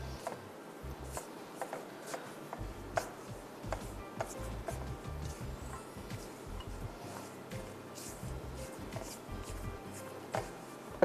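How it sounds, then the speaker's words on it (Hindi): Sticky dough made with flour, honey and oil is worked by hand in a bowl, giving steady close squishing, slapping and rubbing sounds with a continuous rhythm and no talking. "अच्छी तरह मिक्स करते हैं"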